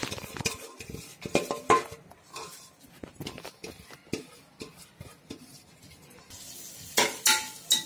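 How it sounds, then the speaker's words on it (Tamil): Drumstick leaves sautéing in coconut oil inside a pressure cooker, busy bursts of metal spoon scraping and clanking against the pot over a light sizzle, close and uneven in rhythm. "முருங்கைக்கீரையை கொஞ்சம் அந்த எண்ணெயில் வதக்கி வதக்கிக்கலாம்."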